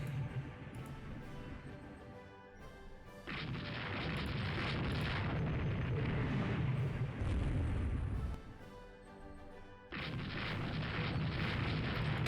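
Naval guns roaring in the warship game Rule The Waves 2, a dense continuous barrage of loud booming blasts and rumble that swells, dips briefly, then resumes at full strength.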